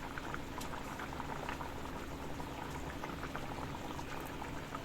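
Tangra fish curry broth with eggplant bubbling in a pot, a close, steady rolling boil of fine popping bubbles, faint and continuous throughout.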